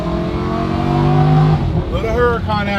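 A Lamborghini Murcielago SVJ engine revs loud and close, a sustained snarling drone that swells and then drops off into rapid throttle blips, with voices talking over it.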